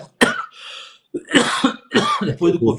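Several harsh coughs come in quick bursts, close and loud, separated by short pauses and a breathy throat-clearing sound.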